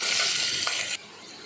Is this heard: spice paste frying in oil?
yes